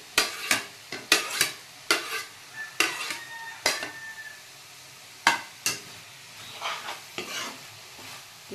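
Mango pieces tossed into a hot frying pan and stirred, with repeated sharp scraping and clanking strokes of a spoon against the pan over a soft sizzle, loud and close, in irregular bursts.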